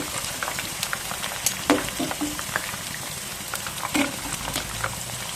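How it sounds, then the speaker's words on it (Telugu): Okra frying in oil until it colours, a steady crackling sizzle with scattered sharp pops, close and continuous with no voices. "బాగా కలర్ వచ్చే వరకు వేయించుకోండి."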